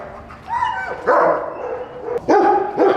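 Dogs at the U.S. Border Patrol K9 academy bark and yip in short, loud bursts, some whining between them, during a checkpoint search exercise, close by with no talk over them.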